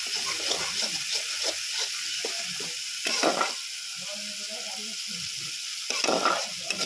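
Spices frying in oil for a Bengali fish curry (lata macher kalia) give a steady broadband sizzle, with spoon strokes stirring them at intervals and brief louder bursts near the start and end.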